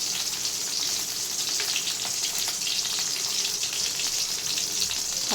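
Three dried red chillies frying in hot oil in a kadai for village-style country chicken curry, a dense, steady, loud sizzle with small crackles throughout and no talking.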